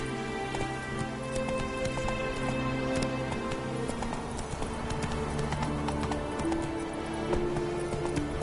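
Roach the horse galloping in The Witcher 3 video game, a continuous even hoof rhythm under layered game music and ambience, with no speech.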